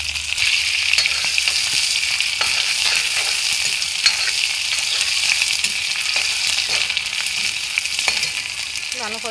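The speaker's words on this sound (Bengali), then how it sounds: "ভালো করে ভেজে নেব।" Onions and bay leaf fry in hot oil with a loud, continuous sizzle, punctuated by scattered scraping and stirring clicks from a utensil in the pan.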